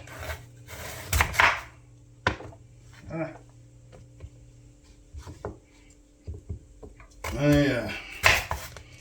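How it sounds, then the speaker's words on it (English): Knife slicing sweet potatoes into thin pieces on a board, a few irregular close cuts and scrapes with woody knocks, scattered among pauses and brief murmurs. "It's basically just slicing little about 3/16 inch pieces."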